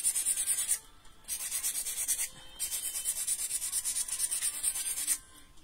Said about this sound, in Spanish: Empezamos a lijar.